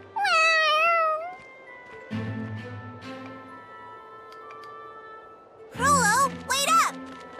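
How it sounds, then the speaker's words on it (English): A cat in the video game Tales of Xillia 2 meows twice, a wavering cry at the start and another near the end, with quieter talking and background sounds in between. "you hungry, fat cat?"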